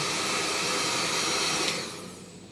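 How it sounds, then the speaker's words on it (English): A hair dryer blows with a loud, steady whoosh while drying a fursuit paw, then winds down and fades toward the end. "Just use the hair dryer"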